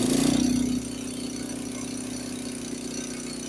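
A Honda snowblower engine, started cold on choke, runs at a steady idle. A brief high squeal at the start gives way to an even, low mechanical drone, with no voices.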